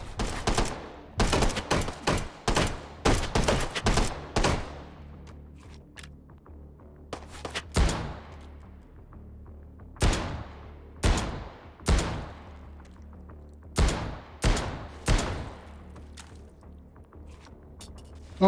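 Gunfire in the VR shooter Hot Dogs, Horseshoes & Hand Grenades: repeated sharp shots in rapid bursts and scattered single reports across the clip, loud and close, with no talking.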